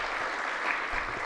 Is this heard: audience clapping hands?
yes